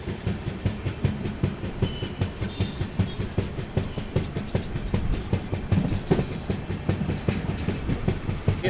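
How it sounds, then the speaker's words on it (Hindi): An Amrit Bharat Express train rolling into Kollam Junction, heard as a steady, loud, close clickety-clack of wheels over rail joints with a running rumble and a few faint squeals, no talking. "कि अपनी ट्रेन कोल्लम जंक्शन में एंटर कर रही है।"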